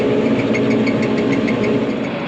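A tractor engine runs steadily while mowing horse trails early in the morning, a close, even diesel drone with a faint rhythmic knock and no voices.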